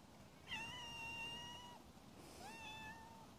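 A small grey kitten meows twice, close and clear, a drawn-out cry followed by a shorter one against quiet outdoor background.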